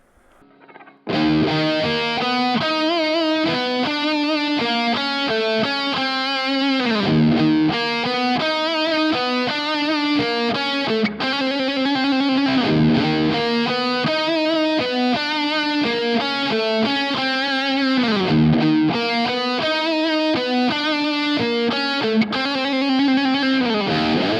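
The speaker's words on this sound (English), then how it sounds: "We'll just add some reverb to that" A heavily distorted electric guitar through a Boss Katana MkII amp plays chugging, repeated riffs with a lush reverb tail, loud and sustained, with short pauses between phrases.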